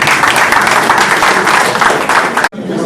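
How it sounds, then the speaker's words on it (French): A hall audience gives loud, dense applause in sustained clapping at a federation election. It cuts off sharply near the end, leaving a softer background murmur. "on va quand même les applaudir"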